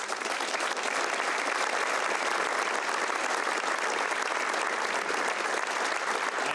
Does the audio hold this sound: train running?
no